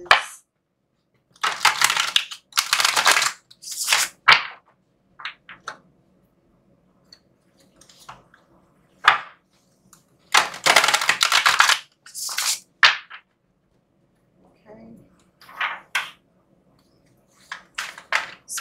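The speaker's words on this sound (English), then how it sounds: "Okay, let's pull some cards." Tarot cards being shuffled and pulled, with several close bursts of crisp riffling and flicking separated by quiet pauses and a few lighter taps.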